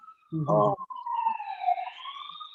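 A brief burst of speech, then a siren wails in a rising, sweeping tone, moderately loud and somewhat distant.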